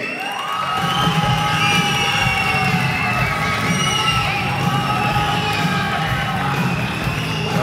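Crowd at a kickboxing fight night cheering and applauding as a fighter is introduced, a loud, sustained roar of shouts, whoops and clapping filling the hall, with an announcer's amplified voice ringing over it.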